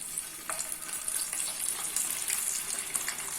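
Curry leaves and spice paste hit about three spoons of hot oil for a masala fish curry, giving a close, continuous sizzle and spatter with light stirring scrapes and no talk.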